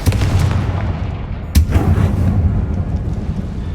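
A Confringo blasting spell goes off in Hogwarts Legacy, a deep rumbling blast with a sharp crack partway through, sustained low booming throughout and no talk.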